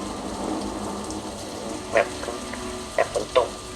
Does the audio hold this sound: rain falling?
yes